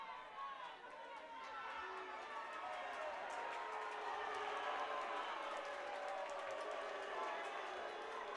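Rowdy fans fill a high school basketball gym with dense, loud crowd chatter and shouting, a steady roar of voices with scattered claps, while people talk in the foreground.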